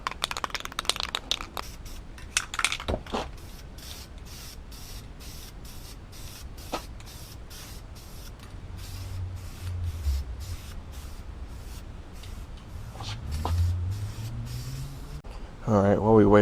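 Rust-Oleum spray paint hissing from a half-full can onto the roof of a Porsche 944 under restoration, in several bursts of varying length with brief pauses and faint handling noise between them.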